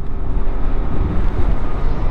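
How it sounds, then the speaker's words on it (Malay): Evening wind buffets the microphone while riding a Yamaha Xmax 250 scooter in Malaysia, a steady low roar with rumbling gusts throughout and no talk. "Sambil terkena angin petang."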